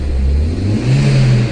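A Hyundai Veloster Turbo engine revs on a cold start, a close, loud mid-pitched drone that climbs in pitch partway through and holds high, with no talking.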